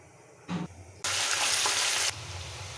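Onion and ground coconut paste hitting hot oil, a brief hiss first, then a loud, dense sizzle that surges for about a second before easing to a quieter steady frying.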